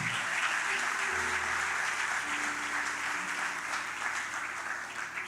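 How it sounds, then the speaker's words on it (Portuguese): A church congregation breaks into sustained applause for the Lord, a broad, even wash of many hands clapping. A low sustained tone hums beneath it, and the clapping carries on steadily to the end. "Se é para aplaudir o Senhor, para aplaudir de verdade."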